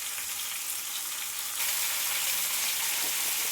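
Mango pulp frying down and drying in a pan gives a steady close sizzle that turns louder and denser partway through, with no talking.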